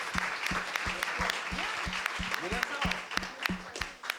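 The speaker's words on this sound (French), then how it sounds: "Applaudissements pour Daniel, s'il vous plaît." An audience at a live on-stage event claps in steady, moderately close applause that fills the short stretch, with a few voices faintly underneath.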